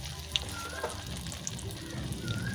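Soyabean kofta frying in hot oil in a pan makes a close, continuous sizzle with small pops and crackles throughout.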